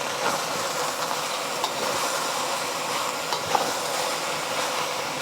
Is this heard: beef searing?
yes